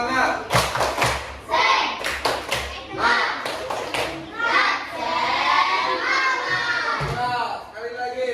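Children in a classroom perform a rhythmic clapping chant, bursts of patterned claps and thumps mixed with loud sung and shouted children's voices, close and energetic throughout.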